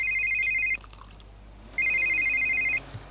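A phone rings in The Sims 3 game with two electronic trills, each about a second long and separated by a pause. A faint background ambience runs underneath, with no talking.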